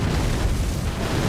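A dense, sustained explosion from an attack in the video game Elden Ring, a loud rumbling boom holding steady with low-end roar for over a second, with no talk over it.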